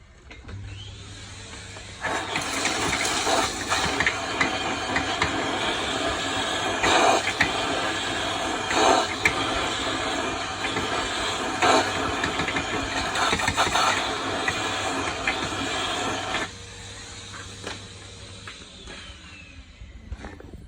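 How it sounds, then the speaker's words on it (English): A Hoover vacuum cleaner runs steadily for about fourteen seconds to clear a blocked Kenia waste grinder, a loud continuous motor drone that starts abruptly and cuts off near the end, with no talk over it. "I'm going to grab his hoover again."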